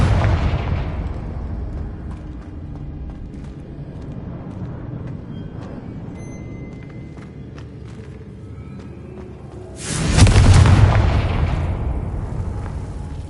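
A Confringo fire spell bursts in Hogwarts Legacy: a sudden loud explosive boom near the end, rolling into a roar that fades out, after a long stretch of low ambient game rumble.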